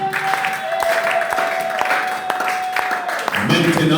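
Congregation clapping in a church during a New Year's Eve service, a steady loud wave of applause with sharp individual claps, a sustained tone and a voice heard over it.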